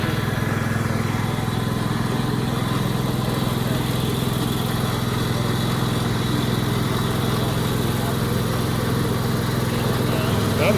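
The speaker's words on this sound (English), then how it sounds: "It was different. I want to say it was like a 5-something lawn tractor. It was a hydro" Hydrostatic lawn tractor running on a dyno, a steady, close engine drone that holds at a constant pitch throughout.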